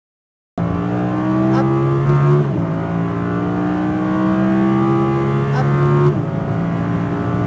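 An Audi R8 V10 RWD on full throttle at a track, loud onboard engine note climbing through the revs with two brief shift dips, starting abruptly after a short silence.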